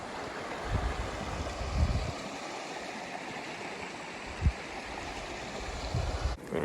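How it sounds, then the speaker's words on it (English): A cold winter river flowing steadily outdoors at about 10 degrees, a continuous broad rush of water close by with occasional low wind bumps against the microphone, and no talking. "So we're here down at the river."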